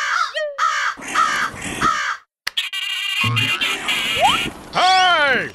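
Several loud, harsh cartoon crow caws ring out in quick bursts, close by, with a brief pause partway through before more calls follow.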